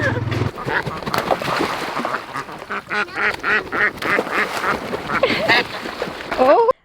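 Ducks being carried to a pond quack and chatter loudly and close by in repeated bursts, mixed with people talking throughout.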